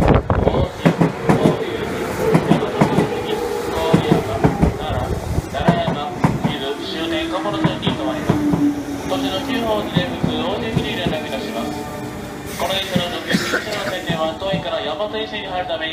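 A JR Yamatoji Line 201 series rapid service train bound for Kamo rolls in and slows beside a platform at Shin-Imamiya Station, with a recorded Japanese announcement voice speaking over the rumble and clatter throughout.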